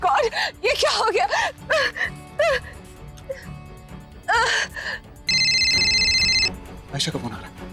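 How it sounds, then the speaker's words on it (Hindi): A phone rings with an incoming call, a bright steady electronic ringtone sounding for about a second after emotional, anxious speech and gasps, with background music underneath. "आयशा का फोन आ रहा है।"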